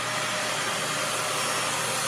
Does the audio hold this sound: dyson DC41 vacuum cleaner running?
yes